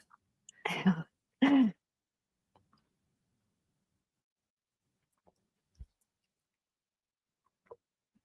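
Two short, sharp coughs close together near the start, then near silence with a few faint clicks and taps.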